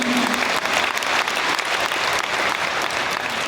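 Audience applause filling a large gathering, steady and dense clapping from many hands throughout, loud and continuous with no speech over it.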